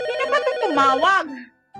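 A telephone rings with a loud, close melodic ringtone that sweeps up and down in pitch for about a second and a half, then cuts off briefly before starting again.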